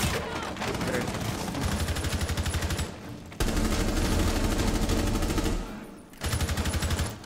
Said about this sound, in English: I'm gonna shoot this warrior.